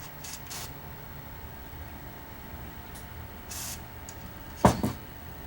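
Contact cleaner is sprayed onto the pins of a plug from a Sony VCR, heard as several short quiet hissing bursts against a low background hum, followed by a sharper clunk of handling.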